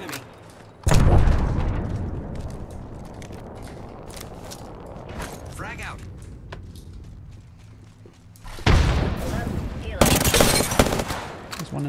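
Video game gunfire comes in dense bursts of automatic shots with booming impacts, loud at the start and again near the end, with quieter scattered shots between.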